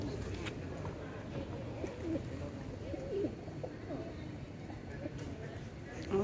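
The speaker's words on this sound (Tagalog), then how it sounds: "ang ganda ng mga kalapati" Soft pigeon coos repeat close by over a murmur of background noise, with faint voices talking nearby.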